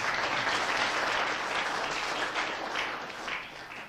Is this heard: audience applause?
yes